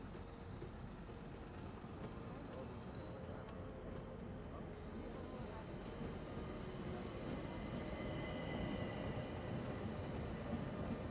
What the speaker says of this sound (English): Now we can sit back and enjoy a relaxing train ride.